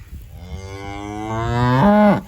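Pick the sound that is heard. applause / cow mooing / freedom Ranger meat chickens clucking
cow mooing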